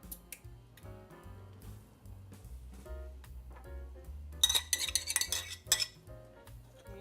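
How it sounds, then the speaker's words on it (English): Spoon clinking against a bowl while yellow cake mix and butter are stirred, scraping and tapping in irregular bursts that grow brisker midway, close and fairly quiet, with a low musical backdrop. "just stir this up"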